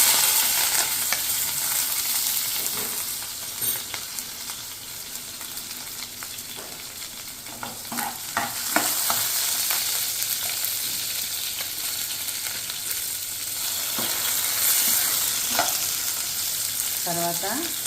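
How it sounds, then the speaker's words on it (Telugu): Sliced onions fry and sizzle in hot oil in a pan for boiled egg curry, a steady close crackle broken by repeated scraping stirs of a spoon, with no talking. "ఇప్పుడు ఇందులోకి ఆనియన్స్ వేస్తున్నానండి."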